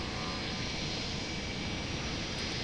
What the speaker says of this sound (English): Looks like our second engine is fully spooled up.